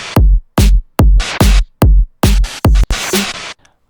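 A punchy programmed drum beat hits in a simple pattern of heavy kicks and sharp snares, loud and dry with silent gaps between hits, ending in a brief fading tail.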